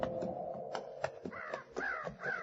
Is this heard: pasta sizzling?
no